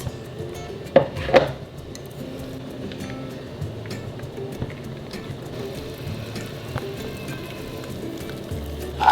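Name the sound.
stirring cheese sauce in a pot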